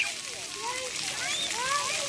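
Water sprays and splatters at an outdoor splash pad on a hot day, a continuous close hissing slosh with surging spurts, while voices talk and exclaim over it.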